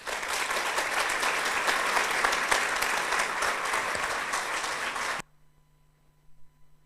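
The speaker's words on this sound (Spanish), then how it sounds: "Renovamos los aplausos" Audience applause after a talk on geospatial analysis of GNSS stations and radiosondes, a dense, loud burst of clapping lasting about five seconds, then stopping abruptly into near silence.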